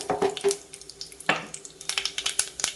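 Mustard seeds and urad dal splutter in hot oil in a pan for a Tamil kuzhambu: scattered sharp pops and crackles burst irregularly over a soft sizzle, close and fairly loud.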